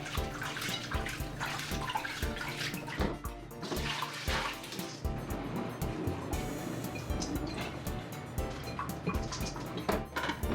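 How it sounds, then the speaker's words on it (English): Pre-soaked rice being rinsed in water for coconut rice, a busy, continuous wash of sloshing and splashing with clinks from the bowl, fairly loud and close throughout with no talking. "Give your pre-soaked rice a good rinse and set aside as well."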